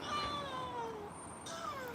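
A pet cat named Kitty meows several times in close, drawn-out cries, clear and fairly loud with no talking over them.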